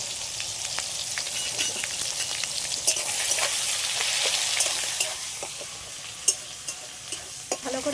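Ginger paste, salt, turmeric and chilli powder frying in oil for khichdi, stirred in the pan; a bright, crackling sizzle fills the clip with repeated spoon scrapes and clinks up close, and nobody speaks.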